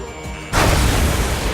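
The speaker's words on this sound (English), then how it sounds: "Railgun has been fired." A railgun firing in Ace Combat 7, one sudden heavy blast that swells into a loud, sustained rushing roar.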